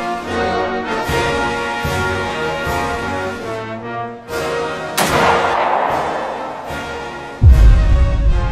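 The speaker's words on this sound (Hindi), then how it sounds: "चला ले अब गोली।" Gunfire and booming blasts from a short India–Pakistan army war movie, repeated heavy shots ringing out with long echoing tails, ending in a loud close explosion.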